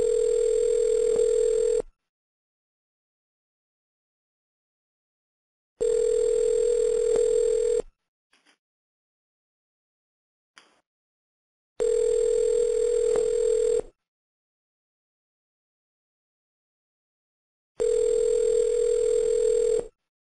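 An outbound telephone cold call plays a ringback tone in four evenly spaced two-second rings separated by long silences, clear and steady with no voices.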